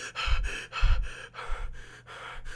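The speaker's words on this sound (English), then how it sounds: "I could make Ellie run around and like sprint around the map, and you'll hear her be like" In The Last of Us Part 2, the character Ellie pants after sprinting around the map: heavy, rhythmic gasping breaths, about five in a row, close and fairly quiet, with no speech.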